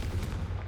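A Confringo blasting spell goes off in Hogwarts Legacy, a short dense burst of low rumbling explosive energy that fills the moment without any pause.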